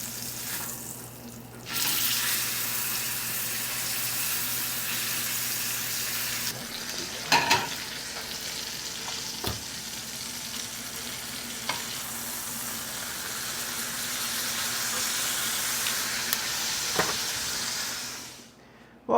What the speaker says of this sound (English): I'm going to start searing.